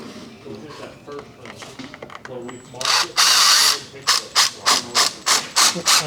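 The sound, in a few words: power drill driving screws through window frame into stud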